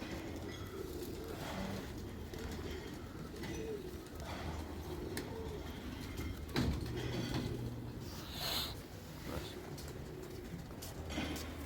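Pigeons in a loft coo softly and intermittently against a steady background hum, with scattered rustles, wing flutters and a few sharp clicks throughout.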